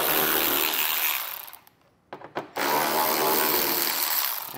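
A power tool whirs continuously as it removes 10 millimeter head screws along the lower edge of a 2023 BMW X4 behind the rear tire, with a brief pause and a couple of short bursts midway.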